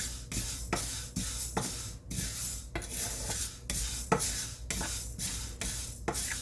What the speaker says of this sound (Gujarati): બ્રાઉન કલરની થાય ત્યાં સુધી આપણે શેકીશું